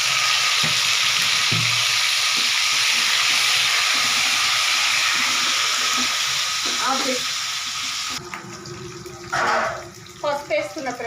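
Green chillies, onions and mint fry in hot oil with a steady, loud broadband sizzle for most of the clip, easing partway through as the pan settles and a few stirring knocks and clatters come through near the end.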